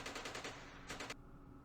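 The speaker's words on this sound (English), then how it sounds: "airstrike" Rapid automatic gunfire from an airstrike in Campaign Series Vietnam at the Battle of Khe Sanh Village, 1968: a quick train of evenly spaced bursts, a short pause, then a few more shots before it cuts off.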